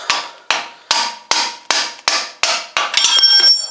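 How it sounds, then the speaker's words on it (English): A soft-faced hammer or mallet strikes a wheel stud to loosen it, eight sharp, loud, evenly spaced blows about half a second apart, followed by a brief metallic ringing. "whacking it with a mallet until it's loose and then taking it all the way out"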